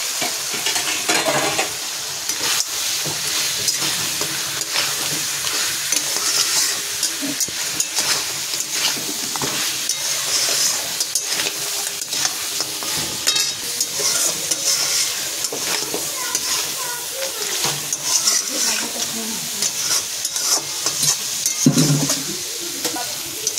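Crab fries in a hot pan with garam masala, giving a continuous, loud sizzle broken by the scrape and clatter of stirring throughout.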